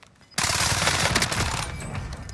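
Rapid automatic gunfire in a first-person shooter video game bursts in suddenly after a brief quiet, a dense sustained rattle of shots that trails off near the end.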